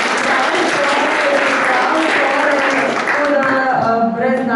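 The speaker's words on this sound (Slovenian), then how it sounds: "Kolega Marko, en aplavz, prosim." An audience at a school translation competition ceremony applauds, with steady, dense clapping filling the room that thins out toward the end as a voice begins over it.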